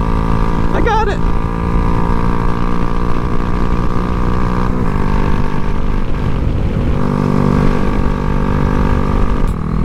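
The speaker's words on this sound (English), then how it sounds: "Oh, damn, it's Harley riders." Harley-Davidson motorcycles ride past in a loud, throbbing engine drone with steady low harmonics that swells and shifts as the bikes go by, with wind noise and a voice over it.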